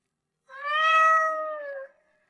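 A single clear cat meow, drawn out and slightly falling in pitch, close and alone against silence.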